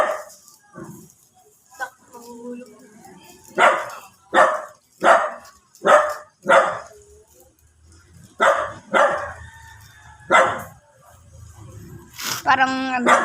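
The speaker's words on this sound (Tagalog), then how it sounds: "Ayun yung aso." A dog barks in a string of sharp, close barks, two quick bursts of three to five, with people talking in the gaps and a brief high-pitched yelp near the end.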